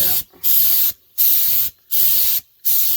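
Spray gun painting the rocker panels and cab corners of a Ford F-150 for a two-tone finish, four close, loud bursts of hissing spray separated by short silent pauses.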